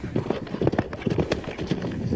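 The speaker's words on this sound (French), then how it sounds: "des chevaux," Horses' hooves clip-clop steadily on the ground during a drag hunt in Pau, in the Pyrénées-Atlantiques, a hunt run with hounds but no live quarry; the rhythmic hoofbeats come from several animals at close range.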